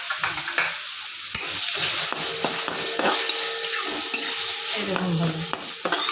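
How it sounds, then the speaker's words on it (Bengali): Snails dry-roasting in a hot pan with no oil, stirred with a utensil that clacks and scrapes against the pan over a steady hiss; a voice speaks briefly. "এই শামুকটা আমি তেল দিচ্ছি না বন্ধুরা, এই শুকনো খোলায় একটু নেড়ে নিচ্ছি।"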